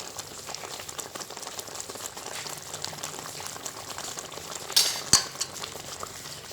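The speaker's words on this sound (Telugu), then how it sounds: "ఇంక ఇవన్నీ మనం బాగా నూనె అంతా పైకి తేలేలాగా మనం ఫ్రై చేసుకోవాలి" Ground coriander-cumin powder and spices fry in oil for tomato rice, a steady soft bubbling sizzle with faint stirring and a couple of brief metallic clinks from a spoon near the end.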